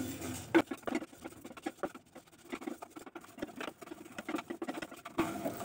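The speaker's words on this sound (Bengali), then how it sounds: "মশলাটাকে আমি একটু ড্রাই রোস্ট করে নিচ্ছি" Whole spices dry roast in a pan: coriander, dried red chillies, a few black peppercorns and fennel seeds. They make a close, irregular patter of small crackles and ticks.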